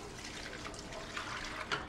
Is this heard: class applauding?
no